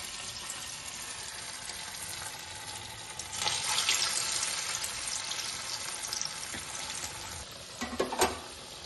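Chicken kebabs fry in hot oil, giving a steady, fairly quiet crackling sizzle that swells and thickens midway, with a few sharper pops near the end.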